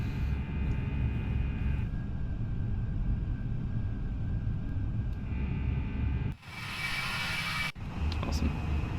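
An FSLabs Airbus A320 climbs out of Geneva in the Prepar3D flight simulator, its engines a steady, loud drone with a few brief dips in level.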